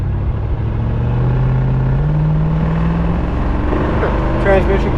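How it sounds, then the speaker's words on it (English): A 1964 Ford Galaxie 500 convertible's engine rumbles steadily from inside the moving car, its pitch climbing and shifting as the transmission kicks down, with people talking over the drone. "Transmission kickdown works."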